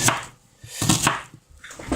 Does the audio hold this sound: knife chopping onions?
yes